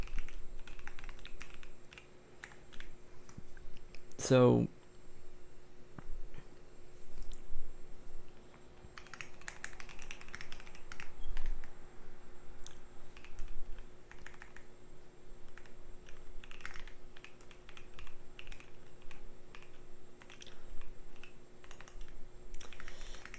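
Continuous typing on a computer keyboard while coding a keybind, rapid irregular key clicks close by, with a short spoken word early on and brief pauses between bursts.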